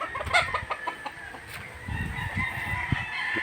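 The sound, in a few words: rooster crowing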